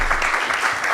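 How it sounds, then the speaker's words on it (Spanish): An audience applauds during a talk at a film festival, dense steady clapping close and loud through the whole moment. "aplaudiendo."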